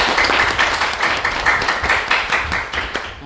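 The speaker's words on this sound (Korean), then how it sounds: "박수 한번 쳐요" A church congregation claps together after a prayer during a new-members class, dense loud clapping with a slight rhythmic pulse sustained throughout, with no voices over it.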